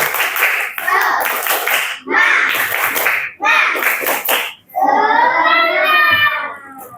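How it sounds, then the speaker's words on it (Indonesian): A classroom group performs the Indonesian 'tepuk semangat' clapping chant, with rhythmic claps and chanted voices in short bursts, briefly pausing between phrases before a longer sung-out ending. "Tepuk 1, tepuk 2, tepuk 3. Tepuk semangat."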